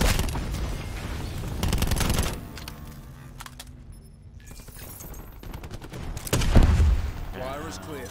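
Gunfire from a GKS rifle in a first-person shooter video game: loud, rapid bursts up front and again later, separated by quieter stretches of game ambience.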